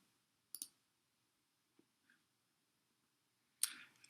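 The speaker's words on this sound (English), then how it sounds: "I then click on Insert a second time" Computer mouse clicks while working in a recording application: a few sharp, isolated clicks spaced apart, close and quiet, with near silence between them.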